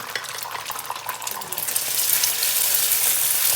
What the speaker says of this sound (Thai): นี้พี่ก็จะใส่ไข่ลงไปนะคะ